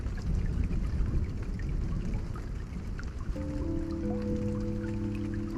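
Steady, even rain falls in a dense wash of hiss and patter, alone at first, before soft sustained music tones enter over it for the final couple of seconds.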